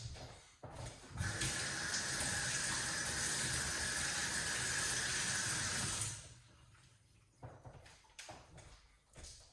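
Kitchen tap water runs steadily for about five seconds while garlic is rinsed beneath it, then shuts off, leaving faint handling sounds and light clatter.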